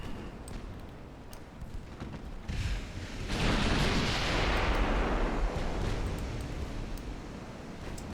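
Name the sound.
naval gunfire and shell hits between battleships in video game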